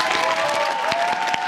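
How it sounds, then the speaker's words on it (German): Studio audience applause on a comedy talk show, dense clapping that stays steady through the whole short stretch, with a voice faintly over it. "Einmal um Applaus für euch beide bitten."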